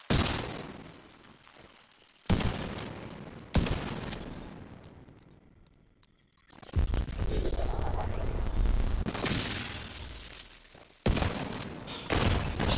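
Gunfire from the video game The Division 2 comes in loud bursts and rapid volleys, separated by brief quieter gaps, with no voices over the shooting.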